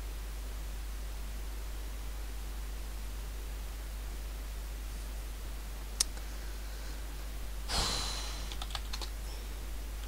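Keys tapped on a computer keyboard during a Dying Light mod-menu session, a few scattered clicks and a short burst of typing over a steady low hum and hiss, faint and close.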